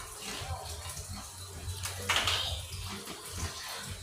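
Children bathe in the sea, splashing water close by in irregular bursts with one sharper splash, while faint voices murmur in the background.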